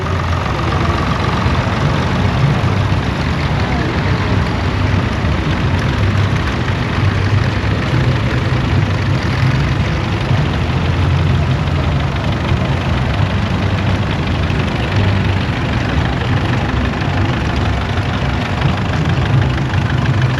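An original Minneapolis Moline vintage tractor fitted with wheel weights runs at a tractor show, its heavy engine idling loudly and steadily with a deep, knocking rumble throughout.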